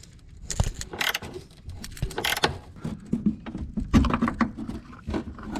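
Clanks, rattles and short metallic ratcheting clicks as a jack is positioned and raised under the fuel tank of a Jeep Grand Cherokee ZJ, close and irregular, with no speech.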